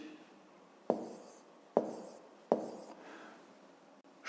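Pen strokes writing numbers by hand on paper during a fifth-grade maths exercise: three distinct scratchy strokes with short decays, fairly quiet, with no talking.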